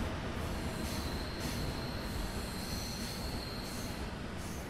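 An ICE high-speed train braking hard, its wheels squealing in a sustained high-pitched whine over the heavy rumble of rolling stock, loud and close, with the squeal wavering in intensity.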